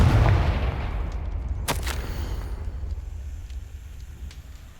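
In Hogwarts Legacy, a Confringo fire spell ends in a booming blast that opens with a heavy thump, then a sharp crack, then a long rumbling tail that slowly fades.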